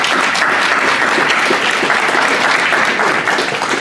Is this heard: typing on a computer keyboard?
no